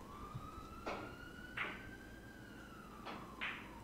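A wailing siren sweeps slowly up and down, steady and fairly distant, broken by a few sharp bursts of noise, with no talking.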